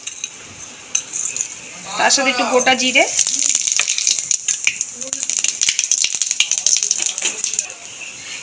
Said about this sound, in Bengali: গরম তেলের মধ্যে ফোড়ন দিয়ে দেব, দুটো দারচিনি, দুটো এলাচ